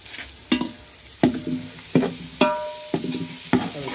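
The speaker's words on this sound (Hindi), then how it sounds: "इसको हम मिलाएंगे, घुमाएंगे अच्छी तरह से ताकि ये भी ब्राउन थोड़ी सी हो जाए।" Onion, tomatoes and green chilies frying in a pan, stirred in a series of about six sharp scraping strokes over a continuous close sizzle, with no talk.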